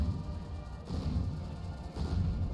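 A small gun fires again and again in the naval combat game From The Depths, heavy booming blasts with a rumbling crash, one near the start and more around the one- and two-second marks, over a steady dull roar.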